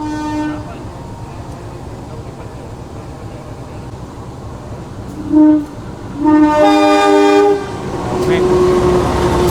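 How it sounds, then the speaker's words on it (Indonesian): Kuto Jaya Selatan passenger train passing the stopped Kahuripan train at Maos station, with a steady rolling rumble, two loud horn blasts near the end, and brief talk. "Di sini kita bersilang dengan kereta api Kuto Jaya Selatan."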